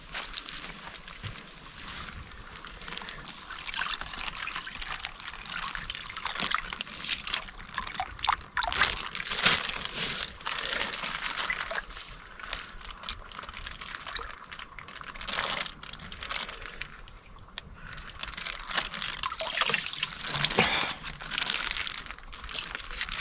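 A plastic baggie crinkles and sloshes as it scoops water from a shallow source along the Florida Trail in Ocala National Forest, with steady close-up rustling and trickling throughout.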